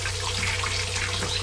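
Water runs steadily from a faucet into the sink in a boat's head, a continuous close hiss with a low hum beneath, no talking.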